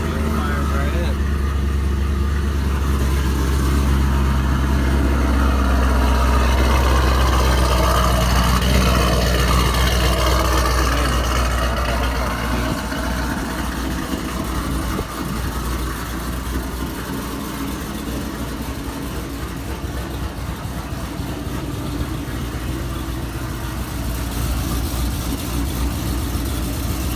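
A car engine idling right after a cold start, a steady loud low rumble that runs unbroken throughout with a slight shift in tone midway.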